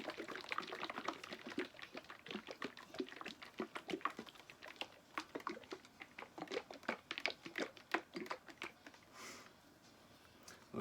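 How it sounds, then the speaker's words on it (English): A bottle of Creality resin is shaken hard, its liquid sloshing and rattling in a rapid, uneven rhythm close by for about ten seconds, then easing off near the end. "This will be my first time using Creality resin. Make sure you shake it up nice and good."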